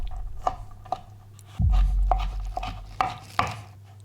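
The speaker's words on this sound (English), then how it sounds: "Like with the nuts, I'm going to run my knife through them." A knife chops dried cranberries on a cutting board, giving a steady series of crisp, close taps with one heavier thud partway through.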